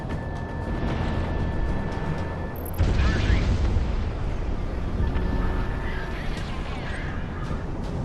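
In the video game Project Wingman, an F-4 jet fires its guns as a dense, roaring rattle under constant engine rumble, with a sharper surge partway through.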